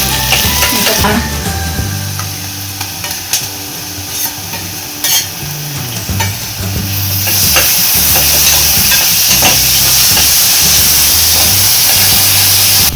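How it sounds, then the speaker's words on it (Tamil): Ginger garlic paste sautéing for mutton keema gravy, a loud close sizzle and frying hiss with spoon stirring and scraping throughout, growing steadier and louder toward the end. "வதக்கிட்டு இஞ்சி பூண்டு பேஸ்ட் போடணும்."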